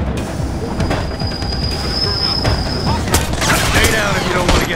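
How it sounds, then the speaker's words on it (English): Gunfire from a gun in the video game Splinter Cell: Blacklist, a quick string of sharp shots near the end, heard over continuous game noise with a high metallic whine. "Just gonna use my gun here."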